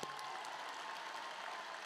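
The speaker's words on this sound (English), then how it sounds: "Give yourselves a big round of applause" Graduation audience at a Baltimore Polytechnic Institute ceremony applauding, a steady dense wash of clapping sustained at even loudness throughout, heard from within a large crowd with no talk over it.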